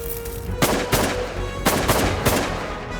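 Shotgun blasts from a waterfowl hunt in Saskatchewan, about five sharp reports in two quick pairs with a single shot between them, loud and close over faint outdoor background.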